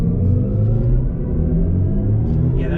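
A BMW iX M60 electric SUV's artificial engine sound hums deep and synthetic, rumbling steadily and loudly, pulsing slightly as it drones on without any talking.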